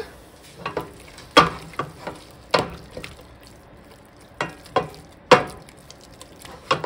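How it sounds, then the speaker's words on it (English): Rice tipped into a pot of cooking chorizo for a chili, giving a faint sizzle under a series of sharp scraping and knocking strokes, some louder than others, spread irregularly throughout. "Get my 1 cup of rice in."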